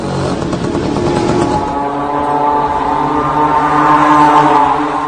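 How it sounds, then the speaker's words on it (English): A small, cheap Chinese moped or scooter engine runs steadily and loudly for several seconds, with a buzzing drone that rises slightly toward the end, with no voices. "This is a small moped engine, or scooter engine sourced from China, at a cheap price. Let us look at how it sounds like."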